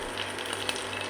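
Dried red chillies and curry leaves frying in hot oil for a sambar tempering, giving a brief, steady crackling sizzle with small pops.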